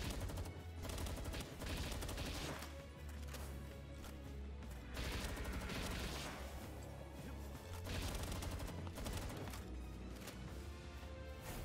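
Dense, continuous gunfire from Palworld, with rapid bursts of shots layered over booming game effects and crashes, loud and unbroken throughout.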